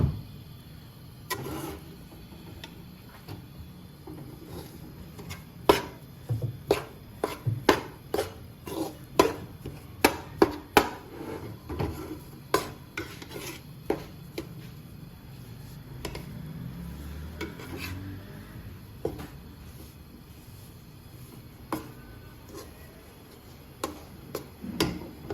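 Wheat flour barfi mixture being stirred after milk is added, with irregular clinks and scrapes of a spoon against a metal pot, sharp ticks scattered over a low background, louder in the first half and thinning out later.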